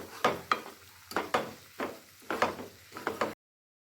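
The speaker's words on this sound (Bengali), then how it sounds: "আর দুধ দেওয়ার সাথে সাথে ভালো মতো নাড়িয়ে নিচ্ছি, যাতে সুজিটা জমাট বেঁধে না ধরে।" A spoon stirs fried semolina with milk in a pan, making a rhythmic series of about eight soft scraping, squelching strokes, close and fairly quiet, before cutting to silence.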